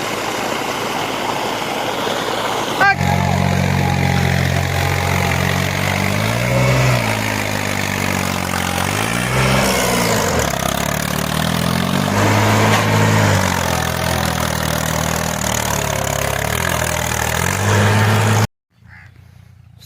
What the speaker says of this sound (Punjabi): ਦੂਜੀ ਮੋਟਰ ਤੇ ਕਰੀਏ ਚਾਲੂ ਮਾਰਦੀ ਨਾ ਪ੍ਰੈਸ਼ਰ